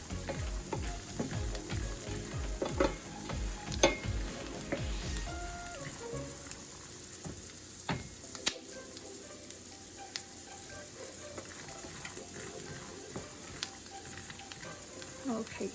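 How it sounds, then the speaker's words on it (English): Peanuts fry in hot oil in a pot on a stove, giving dense crackling and popping that thins out after about six seconds into sparse, quieter sizzling crackles. "Once the cracking sound is slowing down, it's time to just turn off the heat."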